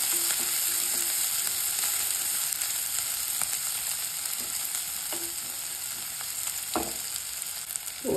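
Small onions, garlic and cumin sauté in a pan with a steady close sizzle, broken by a few soft stirring clicks and scrapes, with no talking.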